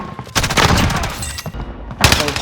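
An MG82 machine gun firing in a video game, two loud rapid bursts of automatic gunfire separated by a brief pause, close and sharp.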